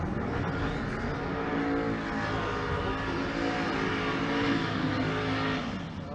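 Stick-shift drag race cars roar at a race track during race week in Pueblo, a loud, sustained engine howl with revving that holds steady throughout, close and alone with no talk.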